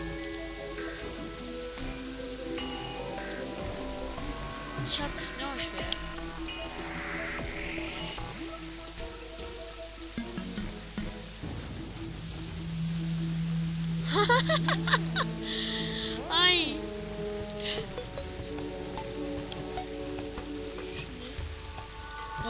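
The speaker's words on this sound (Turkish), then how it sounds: "İşte söz ettiğim yağmur yağıyor." Steady patter of rain in the video game Terraria runs throughout, with someone talking over it and some chiming game music and effects midway.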